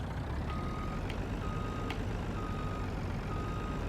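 In Farming Simulator 25, a vehicle reverses onto a trailer: steady engine rumble with a faint, repeating reversing beep over it, plus a couple of brief clicks.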